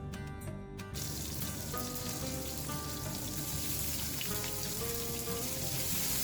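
Thinly sliced pork belly stir-fried in a wok over medium heat sizzles and crackles steadily up close, a constant frying hiss with background music running underneath.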